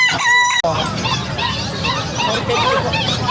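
A rooster crows loudly up close, then a crowd of chickens clucks and squawks continuously at a busy pet market, with faint voices mixed into the barnyard din.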